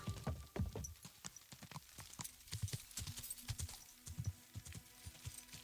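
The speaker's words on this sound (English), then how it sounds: "Easy, good horse." Horse hooves clip-clop at a steady walking rhythm in the Kingdom Come Deliverance II video game, close and fairly loud, with a few faint clicks between the footfalls and no talking.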